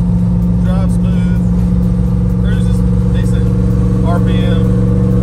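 Loud, steady drone of a car engine held at high revs while driving on a street-car road event, filling the cabin with constant roar as occupants talk over it.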